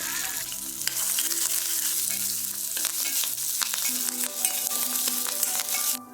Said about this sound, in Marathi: आता हे छान असं परतून घेऊयात.